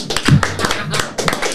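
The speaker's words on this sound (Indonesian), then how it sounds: "Tepuk tangan dulu dong" A few people clap after a card trick, a handful of close, sharp, uneven claps in short bursts rather than sustained applause.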